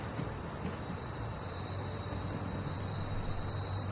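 A train rolls along in The Walking Dead Season 1 game, a continuous low rumble with a thin steady whine riding above it, constant in loudness and free of talk.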